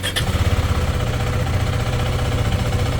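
A Maverick motorcycle engine idles steadily to warm up, a low rhythmic thumping that holds close and constant after a brief start at the beginning.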